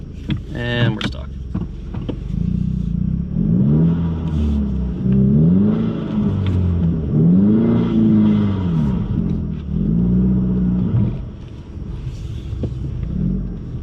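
A 2020 Ford Mustang stuck in a snow-covered driveway revs its engine over and over, loud and close, in rising and falling surges of low rumbling effort that drop to a steady idle at the end.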